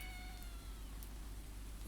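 A cat gives a drawn-out, falling meow near the start, fairly clear over a constant low hiss of background noise that continues afterward.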